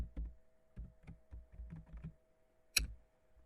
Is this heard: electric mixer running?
no